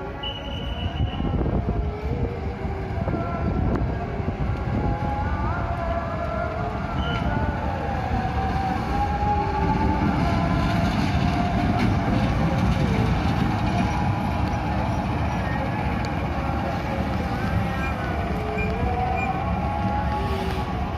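A commuter train bound for Tanjung Priok rolls past at close range with a sustained heavy rumble, wheel squeals and brief horn-like tones over about twenty seconds, and faint voices occasionally heard.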